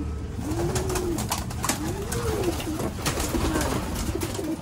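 Racing pigeons coo softly in repeated, rounded calls over a steady background hiss, with occasional clatter nearby.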